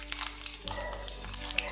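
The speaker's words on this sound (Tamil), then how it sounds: "எண்ணெய் சூடானதும் கடுகு உளுந்தம்பருப்பு சேர்த்துக்கலாம்." Mustard seeds and urad dal frying in hot sesame oil for puliyodharai, a soft continuous sizzle with faint crackles and stirring, low in level, with a steady hum beneath and no talk.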